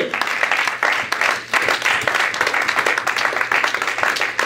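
A church congregation claps and cheers in acclaim of God, with dense, steady applause and scattered voices continuing throughout at close range.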